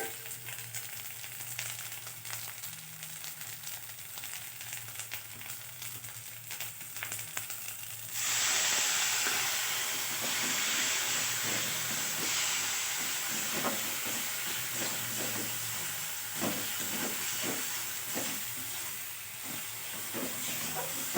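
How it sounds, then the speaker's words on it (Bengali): Spices with ginger and garlic frying in a pan for ghugni, starting as a low quiet simmer, then bursting into a loud, continuous close sizzle partway through with occasional stirring clicks. "ভালো করে মশলাটাকে কষিয়ে নিতে হবে যাতে আদা রসুনের গন্ধ"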